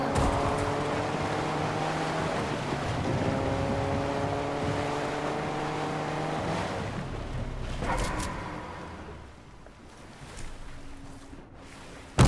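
A motorboat engine in the video game Fortnite drones steadily with a buzzing tonal hum and splashing water, shifting pitch as the boat turns, then fades to quieter wash and thumps.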